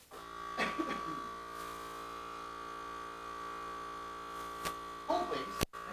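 A kitchen vacuum sealer runs with a steady electric hum and buzz, holding an even drone for several seconds with a few brief clicks and handling noises near the end.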